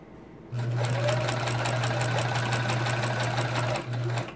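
A sewing machine binds a quilt, starting after a quiet half second and then running in a fast, even, close whir of stitching before a brief pause and a short restart.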